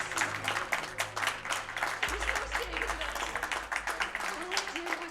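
Applause from a stream audience for the hosts of a Solar Ash any% speedrun charity marathon, a steady wash of clapping running throughout over a low game hum.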